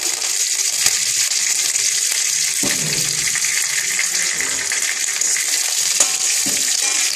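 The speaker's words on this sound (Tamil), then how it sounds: "கடுகு 1 ஸ்பூன், அரை ஸ்பூன் வெந்தயம், சிறிதளவு கருவேப்பிலை" Steady, bright sizzling of mustard seeds, fenugreek and curry leaves spattering in hot oil, loud and continuous with occasional crackles and pops throughout.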